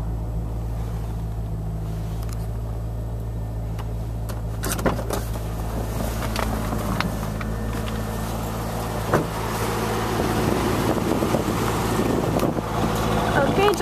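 A 2000 Chevy Corvette engine idles steadily just after starting, a low, even hum with a few faint clicks and a slight rise toward the end.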